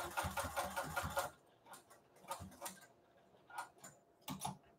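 A sewing machine stitches a kitchen towel in quick, rapid ticking bursts, one longer run followed by several short stitching spurts with pauses between, close and fairly quiet.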